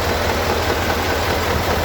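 A vehicle engine idling and rattling in winter conditions, a steady close low throbbing rumble with a rhythmic pulse, no voices.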